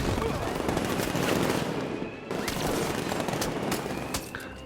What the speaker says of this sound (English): being shot to death with bullets